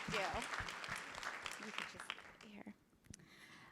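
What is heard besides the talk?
audience clapping at a conference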